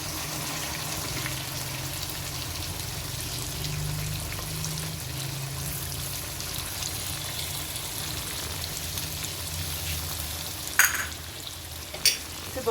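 Tomatoes, crushed chili and red chili frying in a beef karahi, a continuous close hiss of sizzling oil with a couple of sharp clanks from a spoon against the pot near the end.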